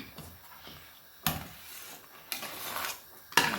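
Jaffna dodol with sago being stirred in a pot, with bursts of scraping and sloshing from a spoon against the pot's sides, separated by quieter pauses.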